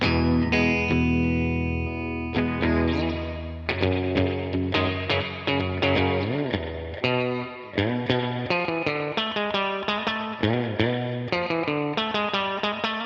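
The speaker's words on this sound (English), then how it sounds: "you give us some more reverb, and can you get us a bit of slap back?" Distorted, fuzzy electric guitar plays a rhythmic riff drenched in reverb, each note trailing a quick slapback echo, loud and up front with no voices.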